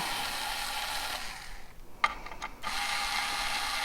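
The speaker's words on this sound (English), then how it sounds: "I'm going to back out these last 5 screws, and I'm going to not take them all the way out" A power screwdriver backs screws out of a Schiit Bifrost DAC during teardown, with a constant whirring hiss broken by a brief pause and a few sharp clicks and rattles up close.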